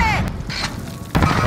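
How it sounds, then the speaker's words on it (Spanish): A grenade is thrown and goes off in a shooter video game: mechanical clicks and a light rattle, then a sudden loud, close explosive burst that lingers to the end. "¡Lanzando granada!"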